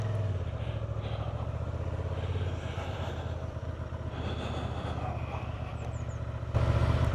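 A 2025 Honda Transalp 750 motorcycle engine hums steadily while riding, mixed with wind rush, its tone shifting slightly as the throttle changes and growing louder near the end.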